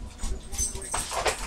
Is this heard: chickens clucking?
no